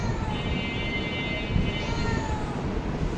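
A cat meows in a residential building, its cry coming through as a steady, moderately loud call against a constant background hum, with no talking.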